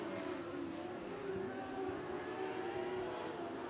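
Modified sprint cars racing down the back straight at Ruapuna Speedway, a steady, fairly distant engine drone that holds evenly throughout with no voices over it.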